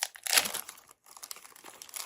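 A Hello Kitty trading card booster pack being opened, with a short burst of crinkling foil, a brief pause, then softer rustling of the wrapper.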